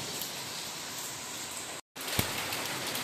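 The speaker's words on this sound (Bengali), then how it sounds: "আর এই দেখো এই চলেও আসলো, একদম ঝমঝমিয়ে বৃষ্টি" Steady hiss of rain falling, fairly quiet and continuous, with a brief dropout and a single tap partway through.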